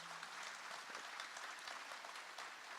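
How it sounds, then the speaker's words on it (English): A round of applause from an audience of several hundred at an Air Force base State of the Base event, dense steady clapping at moderate level throughout. "That deserves a round of applause."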